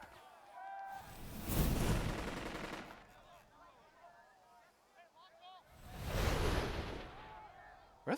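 Distant artillery shelling in the World War II strategy game Burden of Command, with two long rumbling barrages of explosions swelling and fading over a steady low background roar.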